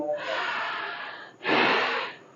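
Two deep, close breaths during a pranayama breathing exercise: a long, airy exhale lasting over a second, then a short pause and a stronger, fuller breath, with no voice over them.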